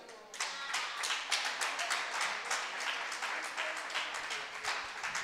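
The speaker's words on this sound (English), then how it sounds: "Please clap for Richarline." An audience claps for a performer named Richarline, a brisk, fairly close burst of many hands clapping steadily, with individual claps distinct, lasting the whole stretch without talk.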